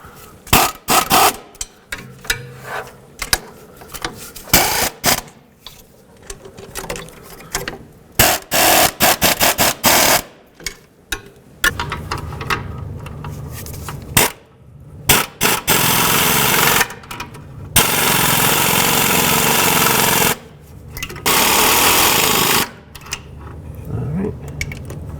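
Bolts on a Toyota exhaust manifold being run down, heard as bursts of loud, buzzing ratchet or power-tool whirring alternating with clicks, handling clatter and short pauses, close up.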